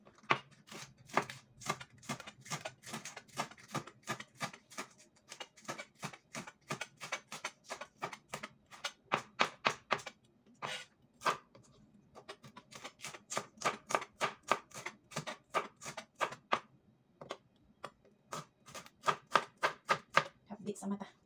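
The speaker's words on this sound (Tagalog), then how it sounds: "Hiwain na natin ang ating dahon ng sibuyas." Spring onion leaves being chopped with a knife on a board, quick rhythmic series of sharp taps in bursts with short pauses, close and clear, with soft talking in places.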